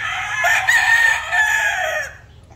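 Roosters crow at a chicken farm in the Philippines, one long drawn-out call rising and falling, loud and close, then trailing off, with no talk over it.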